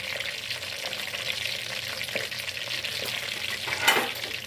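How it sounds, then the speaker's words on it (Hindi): Potato twisted rolls fry in hot oil over a low to medium flame, giving a steady close sizzle and bubbling with a brief louder spatter near the end and no talking. "अब हम इसको दूसरी साइड से फ्राई कर रहे हैं"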